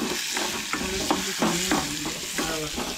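Garlic sizzles in a hot pan while a utensil stirs and scrapes in short repeated strokes, close and steady.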